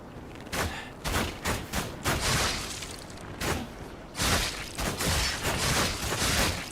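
Repeated gunfire in the video game Lies of P comes as close, loud bursts of bangs and thumps in an uneven rhythm, with brief gaps between volleys.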